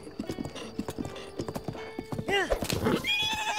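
Horse hooves clop quickly in Zelda Breath of the Wild, followed by a loud rising whinny near the end, with a voice briefly speaking underneath.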